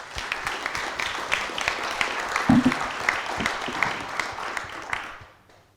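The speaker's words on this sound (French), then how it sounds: "On peut les applaudir." Audience applause at an evening event on data and artificial intelligence: a steady patter of many hands clapping, fairly soft and distant, swelling briefly in the middle before fading out at the end.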